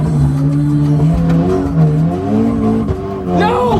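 In a racing video game, a car's engine whines loudly through rising and falling revs as tires squeal and skid, ending in a brief harsh burst, with a voice briefly audible.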